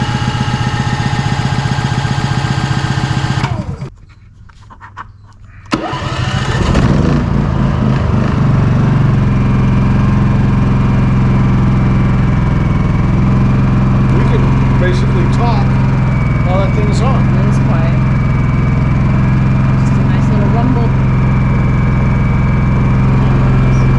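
A Champion 4650-watt dual-fuel gas/propane inverter generator runs close by with a steady, loud engine drone and hum. It dips briefly near the start, then resumes, with occasional faint clicks and voices mixed in.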